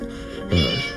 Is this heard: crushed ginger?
no